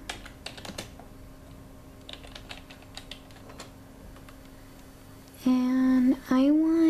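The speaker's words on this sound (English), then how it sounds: "get on your computer, Google Images. And type in mini" Typing a search on a computer keyboard, a run of light, quick key clicks in uneven bursts over a quiet background, followed by a person speaking near the end.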